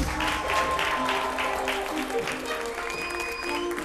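An audience at an evening contestant show claps steadily for a few seconds, a sustained wash of applause with a faint tonal sound running beneath it.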